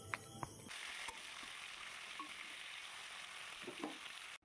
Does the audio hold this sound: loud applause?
no